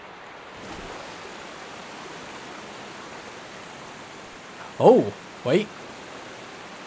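Steady broadband rush of a waterfall while a character climbs it in a Pokémon game, set in Kitakami, a continuous even roar with two brief spoken interjections near the end.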